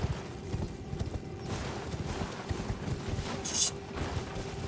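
Horse hooves clip-clop steadily through a video game scene, a fairly soft rhythmic patter layered over windy outdoor ambience with no talking.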